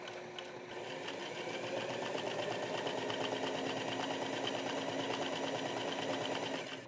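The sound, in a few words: sewing machine stitching collar pieces together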